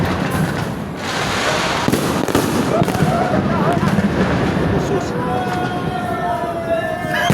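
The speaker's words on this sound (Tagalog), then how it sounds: "malayo pa nga ang December lang, pinapaputok na sila" Firecrackers set off well ahead of December burst in a sharp, irregular crackle of pops and bangs, some near and some far. A siren-like whine rises late, and a voice talks over the noise.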